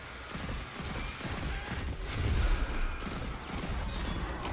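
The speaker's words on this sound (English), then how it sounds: "Love this hand cannon." Hand cannon fire rattles through a Destiny 2 Shadowkeep campaign firefight, rapid shots and crashing impacts blending into a dense, loud barrage that swells in the middle of the clip.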